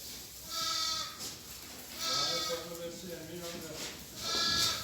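Several lambs being fattened bleat in repeated wavering cries, fairly close, over a steady background hum.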